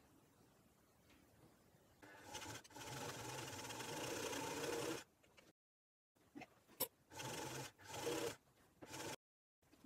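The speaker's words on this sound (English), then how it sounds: "I'm going to stitch along here on the sewing machine." A domestic sewing machine stitches a straight seam along a fabric lining, whirring in bursts of several seconds with short pauses and stops between runs, quiet and close.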